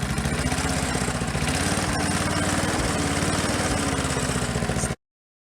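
A 1984 Briggs and Stratton push mower engine runs steadily at high revs, loud and close with a constant buzzing drone, then cuts off abruptly at the end.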